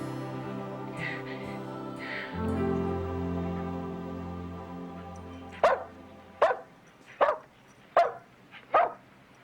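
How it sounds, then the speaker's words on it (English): A dog named in a family drama gives five sharp barks at a steady pace, close and loud, after a stretch of sustained low musical tones. "Damn dog."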